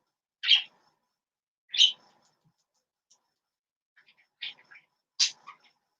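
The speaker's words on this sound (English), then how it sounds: "my birds are really fucking loud right now" Pet birds chirping indoors as daylight breaks, four or five sharp, loud calls spaced a second or so apart against near silence.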